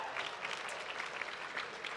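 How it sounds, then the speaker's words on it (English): An audience at a graduate studies convocation applauds, a dense, steady wash of many hands clapping, fairly faint and distant, with no voices on top. "You can clap now."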